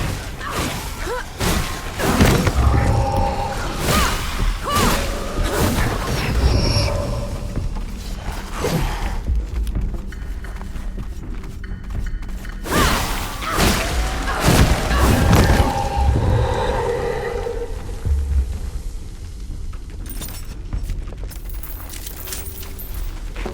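Barrels exploding in the video game Flintlock: The Siege of Dawn, a series of loud booming blasts and crashing debris in separate bursts, with brief voices in between.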